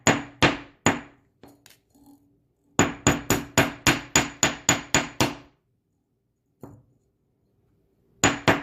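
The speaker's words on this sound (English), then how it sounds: "I'm going to hammer this straight that way and that way" Metal wire for a lampwork-bead finger swirl pin necklace is hammered straight on a hard surface: sharp, ringing blows in short bursts and a steady run of about a dozen evenly spaced strikes, loud and close, with pauses between.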